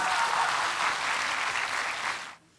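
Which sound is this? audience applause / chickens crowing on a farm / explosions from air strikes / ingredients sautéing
audience applause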